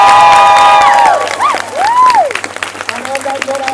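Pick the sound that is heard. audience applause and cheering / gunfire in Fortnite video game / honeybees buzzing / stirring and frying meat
audience applause and cheering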